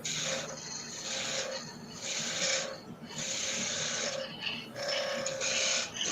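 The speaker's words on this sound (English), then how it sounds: "Or you can do a peeling cut, I don't care." A wood lathe makes a peeling cut with a gouge. The scraping, rasping cuts come in repeated strokes about a second long, with short pauses between them, all close and steady.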